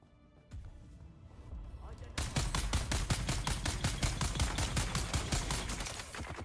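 A minigun fires in a video game, a rapid sustained stream of loud evenly spaced gunshots that starts abruptly after a quieter moment and rattles on steadily to the end.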